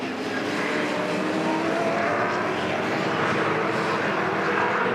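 V8 Supercars roar around Oran Park in a 2006 championship race, a loud, sustained engine howl filling the track with no pause.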